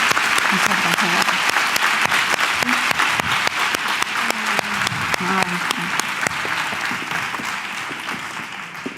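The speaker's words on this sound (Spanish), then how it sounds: "Un fuerte aplauso para ella" A steady round of audience applause at a panel talk, dense crisp clapping sustained throughout with a few voices audible beneath it.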